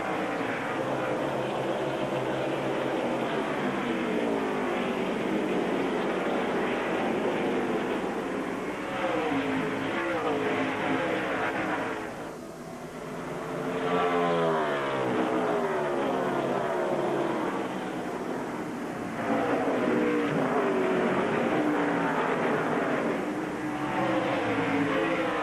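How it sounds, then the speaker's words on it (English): NASCAR Winston Cup stock cars race at Phoenix International during the Checker Auto Parts 500, a steady loud roar of engines with pitch sweeps as cars pass, briefly dipping before swelling again, under crowd and track ambience. "It's Atwood pressuring Andretti for the lead as they come to the stripe and start lap 3."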